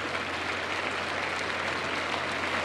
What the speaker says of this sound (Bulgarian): Аплодисментите са за Самюел Пати.